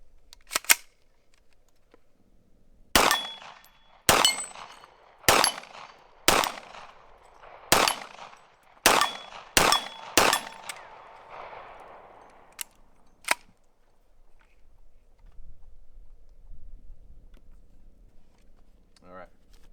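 A Foxtrot Mike FM45 fires Tula ammunition: about ten sharp, loud shots spaced roughly a second apart, each ringing briefly, followed by a quieter stretch of handling noise.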